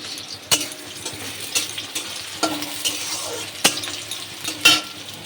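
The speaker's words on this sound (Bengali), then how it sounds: "লতি তো আগে পেঁয়াজ কালো জিরে শুকনো লঙ্কা দিয়ে ভালো করে ফ্রাই করে নিয়ে" Taro stolons frying with onion, black cumin and dried chili in a pan, a steady close sizzle broken by several sharp clanks of a spatula stirring and scraping, no voices.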